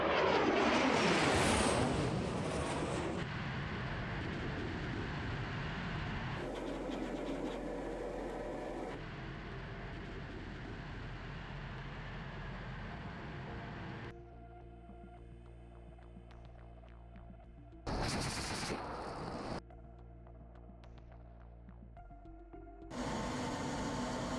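A Ka-52 attack helicopter in combat over the Donetsk area gives a droning engine and rotor hum that shifts in loudness across abrupt cuts, with no voices.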